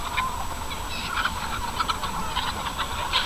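Chickens cluck and squawk in a flock, molting hens among them, with overlapping calls over a steady background hum.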